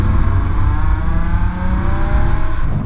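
A car engine revs hard and loud, a dense rising drone close by that holds throughout with no talking.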